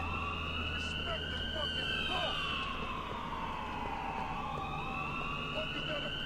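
Police car siren from the GTA IV LCPD:FR mod, a loud wailing siren sweeping up and down continuously in the foreground, with traffic noise underneath and no talk.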